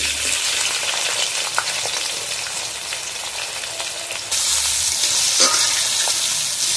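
Bay leaves and chopped onion fry in hot oil in a wok, giving a loud, steady, close sizzle that swells noticeably louder partway through.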